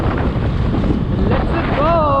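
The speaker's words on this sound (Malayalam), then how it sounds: "ഭയങ്കര തണുത്ത കാറ്റടിക്കുന്നു" Cold wind blows steadily and loudly across an open outdoor spot in Gujarat, with broadband gusting roar and microphone buffeting throughout; a faint voice is briefly audible near the end.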